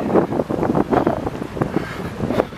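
Steady gusty wind buffets the microphone on a riverside walk along the Thames near the Thames Barrier, a loud, continuous rumble with fluctuating bursts and no talking.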